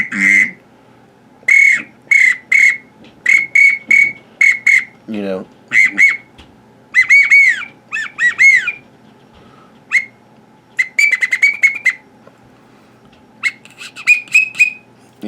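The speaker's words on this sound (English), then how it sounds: "everybody's got to have a whistle." A duck hunting whistle is blown in a string of short, sharp squawking and quacking bursts with pauses between them, loud and close, during waterfowl call testing; someone says a couple of words briefly.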